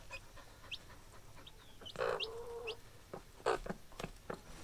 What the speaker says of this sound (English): We've got baby chicks.